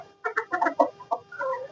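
Desi chickens clucking up close, a quick run of short, bright clucks followed by a drawn-out call, loud and clear with no talk.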